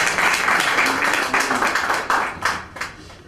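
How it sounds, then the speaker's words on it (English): Applause for the members of the Hyderabad Management Association at a conference at Ravindra, dense steady clapping from a seated crowd that thins and grows patchier toward the end. "Applause for all the members of HMA."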